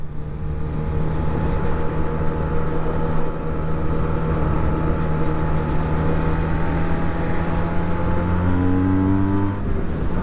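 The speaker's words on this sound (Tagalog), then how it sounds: "Gusto ko yung tunog ng ano nya, ng engine nya." A Benelli motorcycle, a TNT 600i or TNT 302s, revs steadily on a test ride. The engine drone is loud and continuous, and its pitch climbs gradually toward the end.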